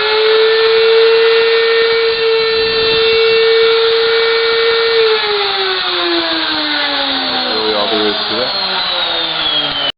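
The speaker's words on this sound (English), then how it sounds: "so I'm routing another one" Router cutting a stacked Lexan RC rock crawler chassis, a loud, steady high-pitched whine that holds, then drops in pitch as the bit bites into the plastic, running continuously before stopping abruptly at the end.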